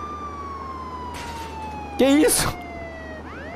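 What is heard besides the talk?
police siren on player's car in video game Contraband Police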